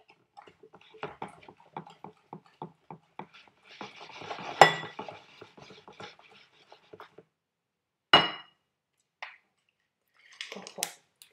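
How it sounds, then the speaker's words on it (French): Eggs and sugar beaten with a whisk in a bowl for a chocolate cake, giving quick rhythmic clinking taps at close range, a denser scraping burst midway and a few sharp knocks near the end, with no talk. "on mélange avec les 3 œufs et après on prend notre fouet et on mélange le tout"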